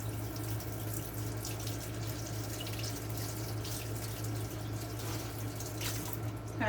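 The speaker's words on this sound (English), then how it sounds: "wash my hands here right quick." Hands being washed under a running kitchen tap, a steady close stream of water with faint splashing over a low background hum, continuous and alone.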